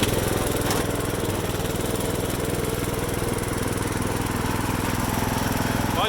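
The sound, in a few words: farm tractor engine running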